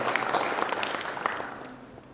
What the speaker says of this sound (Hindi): एक बार ज़ोरदार तालियां युवा परिवर्तन कार्यालय के पूर्व संचालक शहबाज सिद्दीकी साहब के लिए